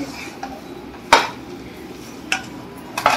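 Dry fruits and dried coconut being stirred together in a pan, with a spoon giving a few sharp metallic clinks against the pan over a low background hum.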